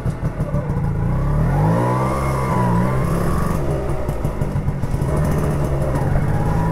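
A car engine revs while driving, a loud close mid-pitched drone that rises and falls with acceleration and gear changes throughout.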